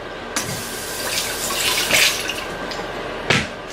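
Beef broth pours and splashes steadily into a boiling pot, a continuous rushing sound with a few louder splashes, close by and without speech.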